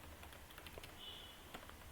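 Soft, faint keystrokes tap out a short phrase on a computer keyboard in a quiet room, a brief sequence of light clicks with no talk.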